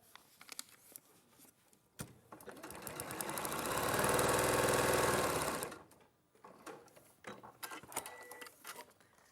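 Sewing machine stitching quilt pieces together, a close steady whirring run of about four seconds that speeds up and winds down, with handling noises and quiet talk before and after.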